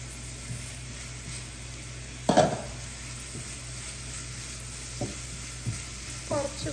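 Egg roast masala cooks in a pan with a soft, steady sizzle and a few brief clinks and scrapes of stirring, and nobody speaks.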